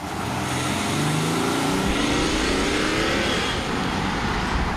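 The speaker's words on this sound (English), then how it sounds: "It's that familiar diesel clatter" A BMW diesel engine accelerates with windows and sunroof open, its gruff clattering drone building loud and steady under rising road and wind rush, no voices.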